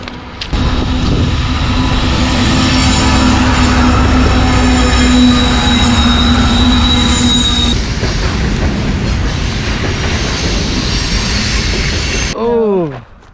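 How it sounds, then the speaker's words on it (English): A train rolls past close to railway tracks at a campsite in British Columbia, a loud sustained rumble with squealing wheels throughout, ending with a voice briefly speaking as it fades. "Here comes the train."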